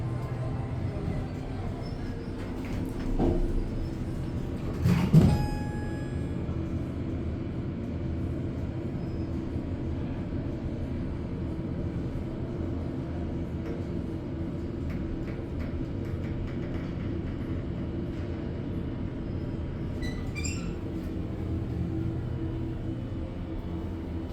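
A scenic Schindler RT hydraulic elevator rides down in a Macy's store at a shopping mall. A faint, steady low rumble runs throughout, with a couple of brief clunks early on and soft ticks near the end.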